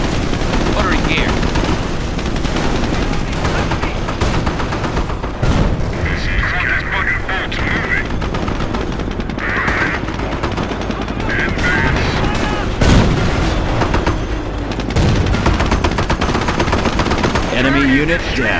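Machine guns rattle through a World War II battle at Montebourg, Normandy, in Company of Heroes: dense, continuous bursts of close gunfire with heavy booms, punctuated by shouted soldier callouts.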